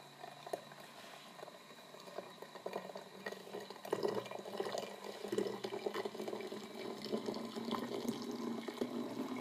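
Hot water from a kettle, still steaming, poured slowly into a dirty glass flask; a steady liquid trickle and splash runs throughout, building slightly as it fills, with no speech.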